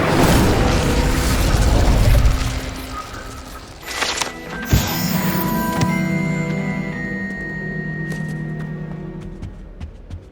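Casting the Incendio fire spell in Hogwarts Legacy brings a loud whooshing roar of flame that fades. A sharp burst cracks out midway, then a quieter stretch follows with tonal game sounds ringing underneath.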